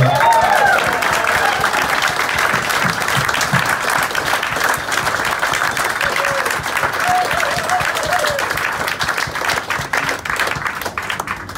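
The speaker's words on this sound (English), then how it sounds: "Could we have a round of applause for our expedition leader," A round of steady, close applause rises from the crowd aboard an Antarctic expedition ship for the expedition leader, dense and sustained throughout with faint voices beneath.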